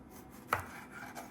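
A single knife chop through tomato, onion and lettuce on a cutting board: one short, crisp cut near the middle of a quiet stretch, with no voices.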